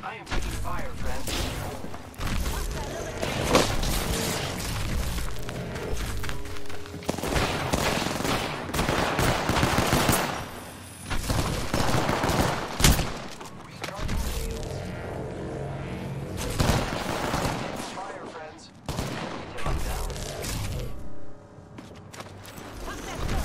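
Incoming gunfire during an Apex Legends Arenas match, repeated bursts and sharp shots scattered throughout with thuds and game effects, while a player talks over the action.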